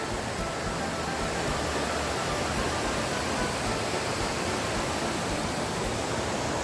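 Mo Pang waterfall in Pai, Thailand, pours in a loud, unbroken broadband rush of falling water that stays constant throughout with no voices.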